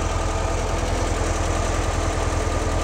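A Porsche 356 engine idles steadily during Zenith carburetor tuning, with a constant close, even rumble and fine mechanical chatter and no voices.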